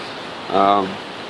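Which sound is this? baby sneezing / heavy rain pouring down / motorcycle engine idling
heavy rain pouring down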